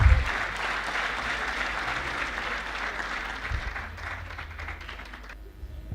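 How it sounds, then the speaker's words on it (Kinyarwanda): A crowd gives a sustained round of applause in welcome for Colonel Desire Migambi, steady dense clapping that holds for several seconds and thins slightly near the end. "Amashyi menshi cyane twakire Colonel Desire Migambi mu ngamba."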